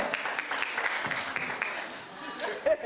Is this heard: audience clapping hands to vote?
yes